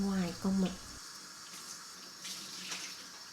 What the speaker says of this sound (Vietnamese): Rửa lại cho sạch trong bụng và bên ngoài con mực.